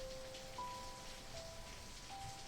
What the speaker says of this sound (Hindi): लाइब्रेरी की ऊंची खिड़कियों पर बारिश शुरू हो गई है।